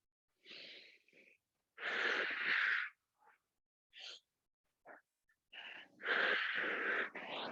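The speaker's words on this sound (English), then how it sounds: "It's a great way to work on lengthening your exhales." Slow, drawn-out exhales during an exercise session: several close, breathy, slightly wheezy breaths of varying length, separated by short pauses.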